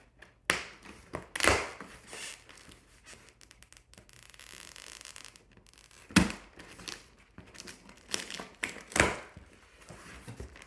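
A taped Thinsulate SM600L insulation package being opened, with close crinkling plastic and tape tearing in several sharp bursts separated by quieter rustling.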